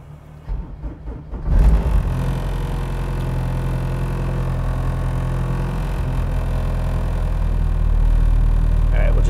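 Turbocharged all-wheel-drive Honda B-series engine cranks briefly and catches, then settles into a steady, loud idle rumble that holds close by for several seconds.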